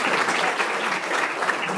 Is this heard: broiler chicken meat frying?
no